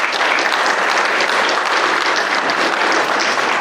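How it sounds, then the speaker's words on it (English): An audience at a school athletic hall of fame induction applauds for school administrators standing at the back, a steady, dense wash of clapping from many hands with no voices over it. "Clap it up for Miss Dunham and Miss Wiley in the back"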